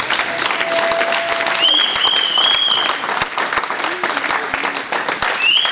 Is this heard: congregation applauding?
yes